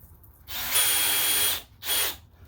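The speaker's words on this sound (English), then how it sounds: "I've got 2 drills, and I can just make relatively short work of this, just bouncing back and forth like so, and drilling them in." Power drill driving screws into pallet wood while building a large planter box: two close, loud whirring bursts, a longer run followed by a shorter one, with near silence around them.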